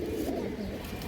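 A red ring-eyed female pigeon coos close by in soft, low, continuous rolling murmurs, alone with no talk.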